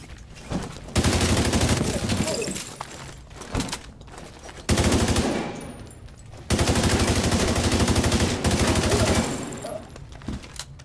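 Enemy turret gunfire from The Division 2: Warlords of New York rattles in three long, loud automatic bursts, separated by brief lulls that hold scattered shots.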